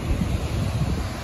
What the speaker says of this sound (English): Napapansin nyo ang lakas ng alon, right? The wave is really high tide.